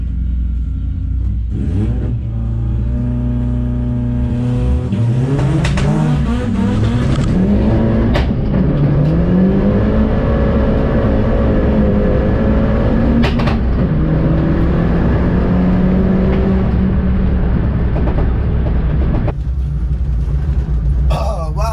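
A loud drag racing car engine roars and revs hard at Crail Raceway, its pitch climbing through several gear shifts as the car accelerates, with a heavy rumble throughout.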